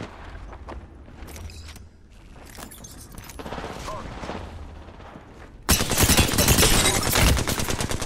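Loud bursts of rapid automatic gunfire ring out in a squad-based shooter video game, with scattered shots early and a dense, sustained volley near the end, while players talk.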